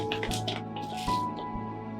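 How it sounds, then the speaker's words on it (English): A teaspoon presses and squishes hard Epsom salt with a few wet, crunchy squelches and scrapes, close up and moderately loud against a steady background hum. "Epsom salt is kind of hard, so you have to kind of really get in there and squish it around a little bit"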